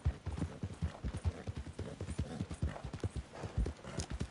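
Horse hooves clip-clop in Red Dead Redemption 2, a quick steady trotting rhythm of sharp low thuds, moderately quiet, with faint speech underneath.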